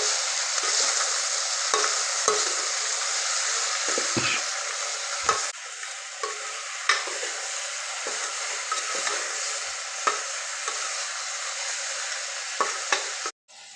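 Tindora (ivy gourd) curry with turmeric and cumin being stirred in a pan, with a loud, steady sizzle and repeated scraping strokes of the spoon across the pan. No one speaks.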